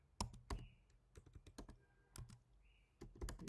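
Computer keyboard typing in short irregular bursts of clicks and keystrokes while a Python file is named, fairly close and moderately loud with quiet gaps between bursts.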